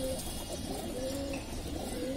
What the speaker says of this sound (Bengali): এটা কি কবুতর? এটা জিরা গলা একটা মাদি।